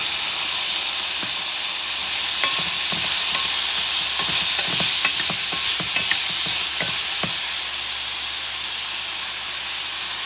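Tomato chunks going into a sizzling pan of spicy stew, a loud steady frying hiss with a run of stirring clicks and scrapes in the middle, close up and without talk.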